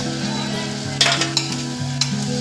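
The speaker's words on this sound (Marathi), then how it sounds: "त्यानंतर आपल्याला हा चिरलेला भोपळा टाकून घ्यायचा आहे." Chopped pumpkin is stirred into a masala mixture frying for dal, giving a steady close sizzle with sharp spoon scrapes against the pan at intervals.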